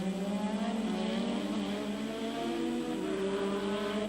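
Formula 1 cars race at the 1985 French Grand Prix at Paul Ricard, their high-pitched engines wailing steadily together, with rising and falling tones as the cars pass in a close pack.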